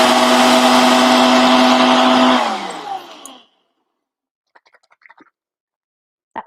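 A food processor whirs loudly with a steady motor hum while chopping burger ingredients like shiitake and chickpeas, then spins down and stops, leaving near silence and a few faint clicks.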